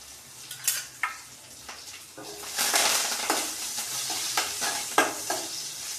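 Garlic sizzles in a hot pan for rasam while a spoon stirs and scrapes against the metal, with steady frying hiss and louder clatter bursts, no voices.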